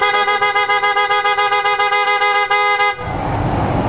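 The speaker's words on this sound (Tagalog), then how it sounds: "yung tunog ng Auto Style Horn na na-install namin dito sa Wigo" Aftermarket PIAA Auto Style horn installed on a 2024 Toyota Wigo, loud close rapid repeated toots in a fast pulsing rhythm for about three seconds, then cutting off into engine and ambient noise.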